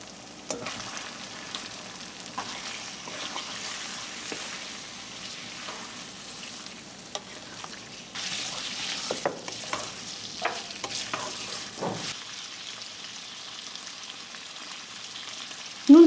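Garlic paste sizzles and fries in a pan for a Bengali spicy liver curry, with steady crackling and occasional stirring scrapes, loudest around the middle and ending with a sharp knock.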